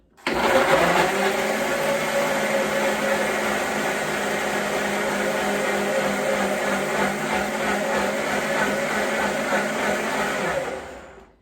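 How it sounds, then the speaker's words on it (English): A new blender whirs continuously while blending a lime mixture, a steady loud motor drone that starts abruptly and stops at the end, with no talk over it. "So now we're gonna blend this up. Now this is a new blender"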